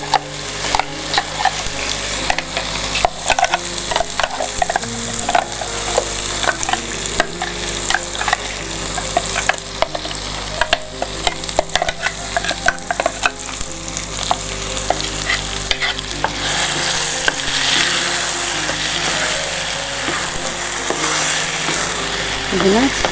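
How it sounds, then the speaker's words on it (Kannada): Loud, continuous sizzling of a tempering for chutney in a hot pan, with frequent scraping and clinking of a spoon stirring, going on steadily for a long stretch. "ಚಟ್ನಿಗೆ ಒಗ್ಗರಣೆಯನ್ನು ಕೊಡ್ತಾ ಇದ್ದೀವಿ"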